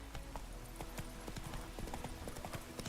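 Roach, the horse in The Witcher 3, runs with quick, steady clip-clop hoofbeats in a close, even gallop rhythm, fairly quiet throughout.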